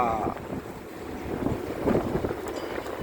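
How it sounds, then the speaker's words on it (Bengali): Breeze gusts through trees in Kuwait City beside a busy main highway, a soft steady rush of wind with a faint traffic hum beneath it and a voice speaking quietly over it. "কি সুন্দর হাওয়া বইছে, দেখছেন নি?"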